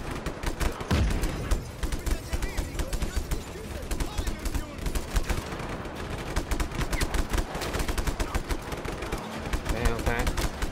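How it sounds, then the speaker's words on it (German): A cannon in Just Cause 3 fires in rapid, relentless bursts, dense and loud throughout with explosions mixed in, while someone talks over the barrage. "Die Kanone funktioniert noch."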